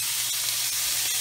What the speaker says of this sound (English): I have some water boiling